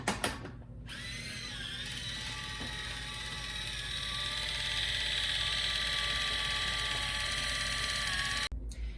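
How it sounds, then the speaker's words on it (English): A manual can opener grinds its ratcheting gears around the rim of a can, up close. The cranking whir goes on steadily for several seconds, stops briefly near the start and again near the end. No one speaks. "This is the best can opener I've ever found, so I'm gonna get all these cans open now."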